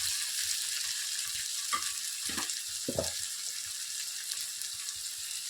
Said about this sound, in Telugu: ఒక 2 మినిట్స్ వరకు ఫ్రై చేయండి.